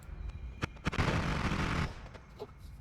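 Laser weapon fire mixed with explosions in a video game: a few sharp bursts early, then a dense, loud roar of overlapping blasts for about a second before it thins out into scattered pops.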